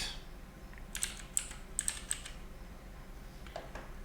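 Bursts of keystrokes on a computer keyboard while coding a Vue.js and Nuxt.js web app, in short clusters of clicks with pauses between them, close and fairly quiet over low background hum.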